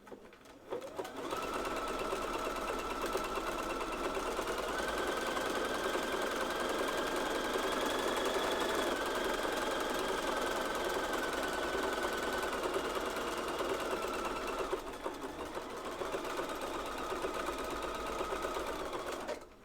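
Sewing machine stitching seams on women's underwear, a steady close whirring drone with rapid needle chatter running nearly nonstop, easing briefly before resuming.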